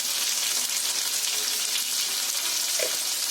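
Onions and tomatoes fry in a pan for a fish curry, giving a steady, close sizzle with crackling throughout and no voices.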